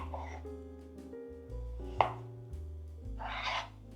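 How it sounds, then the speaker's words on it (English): A large kitchen knife slices a peeled cucumber into thin strips on a board, giving a few distinct close chops and taps spaced irregularly over steady background music. "Now I like to cut it into thin strips."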